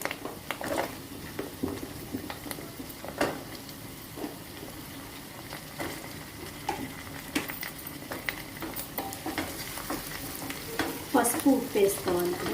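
Drumstick pieces frying with onion and green chili in a pan for an Andhra egg curry, a steady close sizzle broken by scraping stir strokes, busier clatter near the end.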